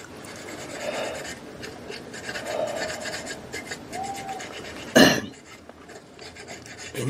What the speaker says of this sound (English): I use sandpaper and I sand it a little bit smoother.